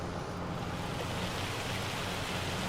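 Hail pelting down in the farming game Farming Simulator 25, a dense, steady hiss of tiny impacts filling the scene evenly from start to finish, loud and unbroken, with no voices over it.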